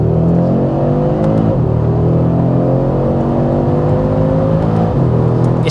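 A 2022 Audi RS3 saloon's five-cylinder engine accelerates hard, loud and close, its pitch climbing through the revs with a brief dip at each gear change before rising again, with no talk.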